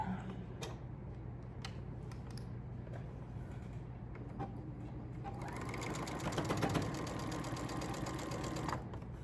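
A sewing machine stitches seams on a Dr. Seuss quilt, its rapid mechanical ticking running steadily, then growing louder and busier partway through before settling again.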